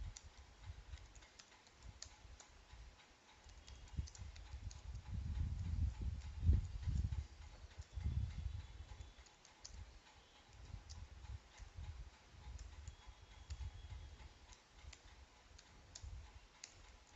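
Someone types C code on a computer keyboard, a steady run of quiet key clicks and taps with brief pauses, close and soft, with no speech.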